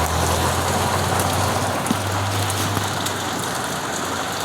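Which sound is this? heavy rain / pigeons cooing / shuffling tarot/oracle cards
heavy rain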